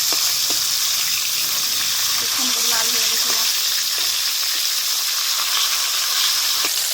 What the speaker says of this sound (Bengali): লাল লাল করে আস্তে আস্তে ভেজে নেবো।